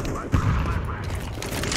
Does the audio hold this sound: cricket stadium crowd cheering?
no